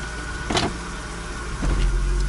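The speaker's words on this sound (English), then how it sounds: "It still made a clunk, but it was softer." A 1998-2002 Honda Accord automatic transmission clunks as it engages gear after sitting overnight, a soft muffled thump heard twice over a steady idling engine hum, with no talk.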